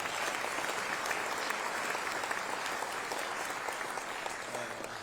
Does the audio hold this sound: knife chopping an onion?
no